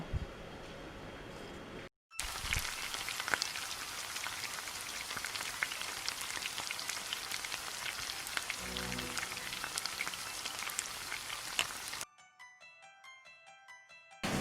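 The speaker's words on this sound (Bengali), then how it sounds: "চিকেনগুলোকে ভালোভাবে ফ্রাই করে নেব।" Chicken pieces deep-frying in about two cups of oil in a kadai, a dense, steady crackling sizzle like rain that runs without pause, briefly interrupted near the start and giving way to quiet music at the end.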